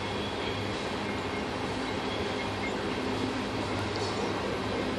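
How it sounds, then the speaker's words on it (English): Coal train engines rumble past at full speed, a continuous, fairly quiet low roar with steady rolling noise and no voices. "the full speed coal train is still there, but you can barely hear it"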